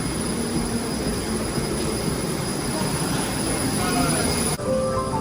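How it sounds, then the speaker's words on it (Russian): A steady, loud roar of a Boeing jet airliner's engines, broad and constant, with a thin high whine running over it throughout. "Вот такой огромный Боинг, ребята."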